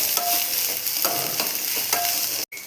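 Ginger garlic paste fries in a pan for an egg gravy, giving a continuous close sizzle broken by a few soft stirring scrapes and ending in a sudden brief cutoff, with no voices.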